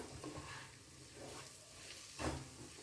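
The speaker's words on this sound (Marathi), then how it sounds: "व्यवस्थित परतून घ्यायचं आहे प्रत्येक मिरचीमध्ये मसाला गेला पाहिजे" Green chillies coated in masala sizzle softly as they are stirred and sautéed in a pan for pickle, with faint scraping strokes and one louder stir near the end.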